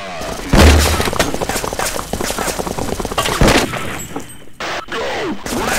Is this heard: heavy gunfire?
yes